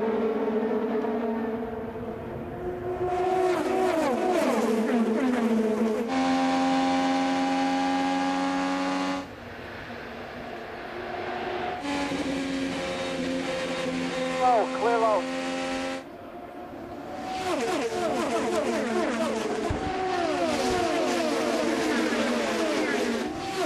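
IndyCar race cars at the 2015 Indianapolis 500 restart roar past in loud, overlapping waves, engine pitch sweeping up and down as the field surges by close at hand.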